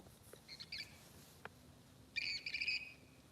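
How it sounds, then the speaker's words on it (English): Birds calling outdoors by a lake, a few short chirps early on, then a louder burst of shrill, repeated calls near the end, heard alone over a low background hum. "Man, those birds are loud. They're like yelling."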